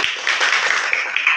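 A classroom group claps together in a dense, even patter of many hands that holds steady for a second or two, close and fairly loud.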